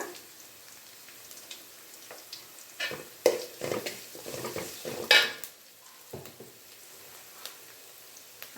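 Onion frying in a pan with turmeric for tomato kurma, a faint crackling sizzle broken by clinks and scrapes of a spoon stirring against the pan, close and without talk.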